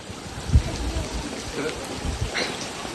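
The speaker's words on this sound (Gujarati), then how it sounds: "અમારા ગામમાં વરસાદ આવી ગયો છે" Steady rain patters and splashes nearby, with occasional heavier drips and faint bumps, a continuous wet wash without any voice.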